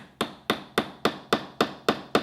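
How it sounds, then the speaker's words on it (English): Eight sharp hammer taps strike in an even, steady rhythm as a hook is hammered into a painting, close and crisp, with nothing else heard. "So I'm going to hammer"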